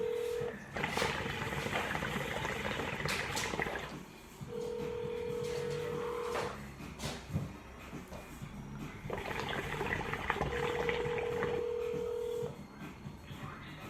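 A telephone call on speakerphone in a shisha shop: three long steady ringback tones separated by pauses, with voices talking faintly in the background.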